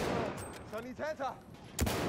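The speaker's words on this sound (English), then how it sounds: "Da! Feindliches Maschinengewehr!" Gunfire in a Battlefield 1 battle runs as a dense, noisy background, with a sharp loud burst near the end. A voice calls out briefly in the middle.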